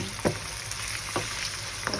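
Vegetables for borscht lightly frying in a pan and stirred with a spatula: a steady, close sizzle with a few soft scraping taps spaced through it.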